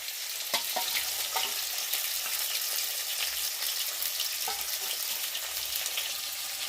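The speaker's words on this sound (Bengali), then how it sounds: "সেই মাছের তেলটা আমি দিয়ে দিচ্ছি, আলুর সাথে আমি ভালো করে ভেজে নেব।" Potatoes fry in fat rendered from bhetki fish bones, a loud, steady, close sizzle throughout with a few soft stirring knocks.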